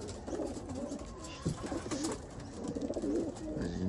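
Racing pigeons coo steadily in a loft during feeding, with several soft, throaty rolling calls overlapping close by over a low background rustle.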